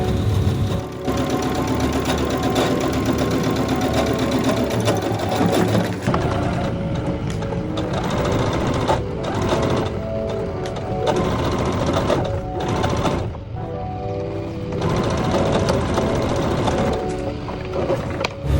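A home sewing machine stitching family outfits at night runs in a loud, steady mechanical whir with a fast rhythmic clatter, pausing briefly a few times before starting up again.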